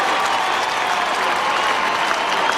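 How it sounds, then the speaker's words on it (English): The Geelong crowd at an AFL match against North Melbourne applauds a player jogging off to the bench, a loud, sustained wash of stadium clapping and cheering throughout. "he gets a rousing applause from the Geelong faithful"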